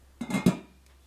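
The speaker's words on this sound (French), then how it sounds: "je mets un couvercle" A metal lid clatters onto a saucepan of rice and water, two quick close clanks in a quiet room.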